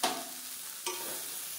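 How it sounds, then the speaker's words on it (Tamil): Tomatoes sizzling and frying in a pan, a steady crackling hiss with a stir or scrape partway through. "தக்காளி இந்த அளவுக்கு வதங்கினா போதும்"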